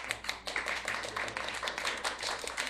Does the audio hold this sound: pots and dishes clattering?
no